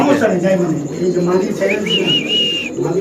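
Spanish fancy pigeons cooing in a loft, soft throaty coos layered with a few higher chirps, close by and steady under ongoing conversation.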